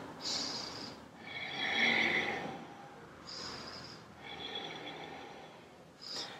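Slow, deep yoga breathing held in triangle pose: audible nasal inhales and exhales in a calm, even rhythm, close to the microphone, with no speech.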